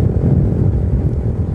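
A truck passes on the road, heard as a loud, steady low rumble of engine and tyre noise close by with no break.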